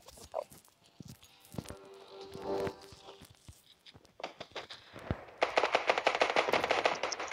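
Gunfire in the mobile shooter Standoff 2, scattered shots and footsteps at first, then a loud rapid burst of automatic fire near the end.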